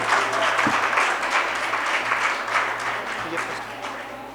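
Audience applause at a Sanskrit youth festival closing award ceremony, a steady run of clapping from a crowd holding at moderate loudness for several seconds, with a voice speaking over it.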